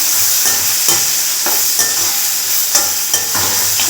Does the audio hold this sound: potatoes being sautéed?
yes